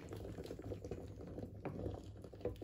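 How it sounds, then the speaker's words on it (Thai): Water boiling in a pot on a kitchen stove, a steady close bubbling and popping churn that runs loud and continuous throughout with no voices over it. "น้ำเดือด"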